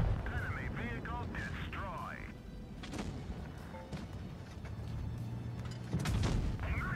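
Tank cannons fire in World of Tanks Blitz, with several booming shots, some distant and some closer and louder. Game chatter, radio-style voices and battle noise run underneath.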